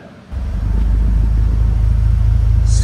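Porsche 911 Turbo engine idling as the car backs out, a steady loud low rumble that swells in after a quiet start and holds even throughout.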